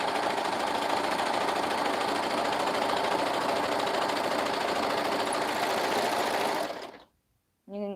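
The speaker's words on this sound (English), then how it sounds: "and then I sew the rest of the way down" A sewing machine stitching fabric for a romper, a steady close whirring hum running continuously for about seven seconds before stopping abruptly, followed by a brief faint noise.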